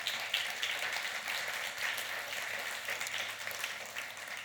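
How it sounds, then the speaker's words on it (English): Symposium audience gives a round of applause to its hosts, continuous dense clapping held at a steady level for several seconds, with no speech on top. "So give them a round of applause."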